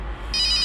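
A phone rings with an incoming video call, its bright electronic ringtone starting abruptly and pulsing on in a quick repeated pattern over a low background hum.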